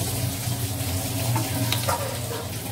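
Mustard oil hitting a hot pan with fried onion while biryani is cooked for guests, giving a steady close sizzle and crackle with a few brief clinks from stirring.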